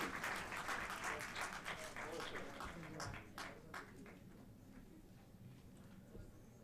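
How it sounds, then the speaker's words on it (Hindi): Audience applause at a closing ceremony, loud at first with sharp individual claps, then thinning and fading toward the end, with some voices underneath. "जोरदार तालियां"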